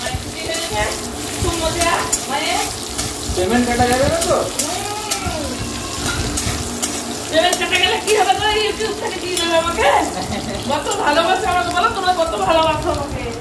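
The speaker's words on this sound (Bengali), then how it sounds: "পেঁয়াজগুলোকে ভেজে নিয়ে কম তেল দেওয়া হয়েছে" Chopped onions sizzle and crackle in a pan with a small amount of oil, a continuous close frying hiss with voices talking over it.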